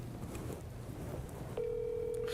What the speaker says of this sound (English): we're going to go ahead and give her a call